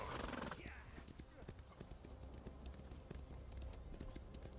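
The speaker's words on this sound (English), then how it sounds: "Get on my horse, then." In the Elder Scrolls Online video game, a horse whinnies once at the start and then its hooves clip-clop in a quick, steady rhythm that runs on under a low background rumble.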